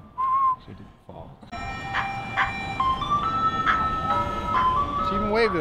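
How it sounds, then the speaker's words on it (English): An ice cream truck rolls past playing its jingle, a repeating tinkling melody that holds steady over the rumble of the vehicle close by, with voices talking over it. "Oh, and here comes the ice cream truck too."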